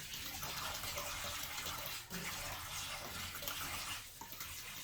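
Paragis grass is washed under a running tap, giving a steady, close, full stream of gushing and splashing water that continues without a break and with no talking over it.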